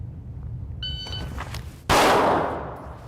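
A pistol fitted with a Vortex Defender CCW red dot fires a single loud, sharp shot during a live-fire drill. A shot-timer beep comes just before it, and the crack rings out close and then decays quickly.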